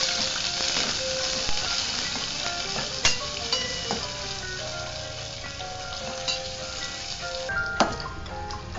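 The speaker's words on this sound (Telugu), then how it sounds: "తర్వాత కట్ చేసుకున్నటువంటి ఈ ఆనియన్ కూడా వేసి వేయించుకుందాం" Chopped onion frying in a pan with green chillies for jowar upma, a steady close sizzle and hiss with occasional stirring scrapes and clinks, no talking.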